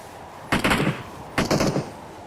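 Two short bursts of rapid gunfire in the mobile shooter BGMI, fairly distant and muffled, each volley lasting under half a second with a pause between, no talk over it.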